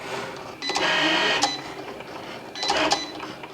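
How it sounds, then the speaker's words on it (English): A Cricut Maker cuts card stock on its mat, giving two separate bursts of close mechanical whirring and buzzing with a brief quieter pause between them. "Once the machine is done drawing, it goes right into cutting."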